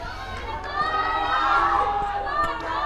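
Young players on a school team's dugout cheer at an under-16 inter-school cricket semi-final, a steady crowd-like mix of children's shouts and cheers held at an even level throughout.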